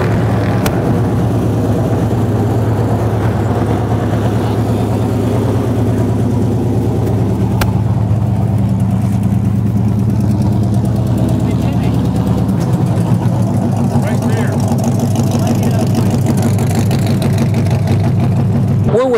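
A stock car engine at the Monster Mile idles with a steady low rumble that shifts slightly partway through, running continuously under people talking nearby.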